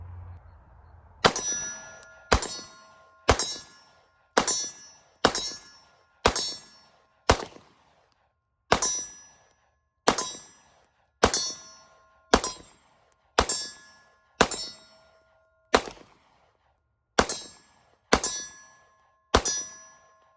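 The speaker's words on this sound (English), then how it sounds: "So she's fully loaded with 17. We're gonna dump the mag down range, see how it does." A Taurus TH9 pistol fires a full 17-round magazine downrange, seventeen loud, sharp shots in a steady rhythm with brief pauses between them and ringing decay after each, no talking.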